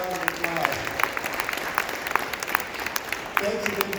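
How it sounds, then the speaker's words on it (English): Audience at a Region 4 stand-up meeting giving a short round of applause, scattered claps layered over a voice talking. "So how about a little round of applause?"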